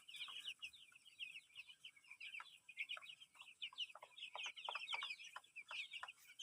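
Young chickens clucking and chirping in a busy, overlapping flock, soft and somewhat distant, with frequent short calls and no voices.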